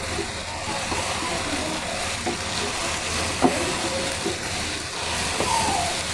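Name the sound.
chicken keema with peas frying in a pan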